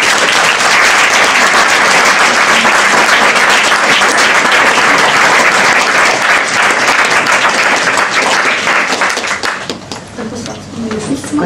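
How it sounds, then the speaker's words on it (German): A crowd at a slam performance night claps hard and fast, loud and steady for around nine seconds, before the clapping thins out and tapers off toward the end. "Viel Vergnügen und einen kräftigen Applaus für."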